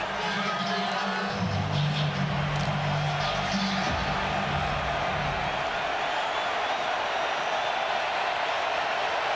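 Steady roar of a large stadium crowd at a night college football game, Notre Dame against Louisville on third down, a continuous dense wash of voices with a low hum in the first few seconds.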